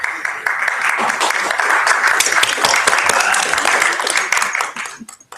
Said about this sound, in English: Presume that was a round of applause for all.